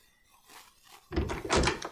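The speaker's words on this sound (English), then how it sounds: "I hear the familiar crack and thump of a door opening and closing" A door in a video game creaks faintly and then shuts with a sudden, fairly loud thump and rattle, a brief close sound standing alone.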